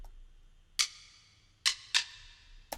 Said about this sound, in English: Kind of like, it sounds like some sticks.